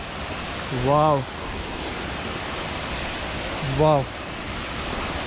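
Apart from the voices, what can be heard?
waterfall rushing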